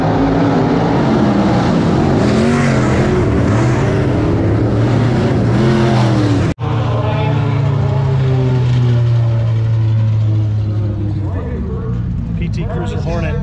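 A roll-caged PT Cruiser Hornet class race car roars around a dirt track on a Friday night, its engine droning loud and steady alongside other cars, with a brief cutout midway, and someone talks over the racing.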